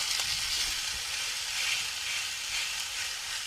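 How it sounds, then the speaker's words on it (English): Steady, crackling sizzle of a large steak frying in a hot pan, loud and close, continuing without pause. "Oh yeah, listen to that sizzle."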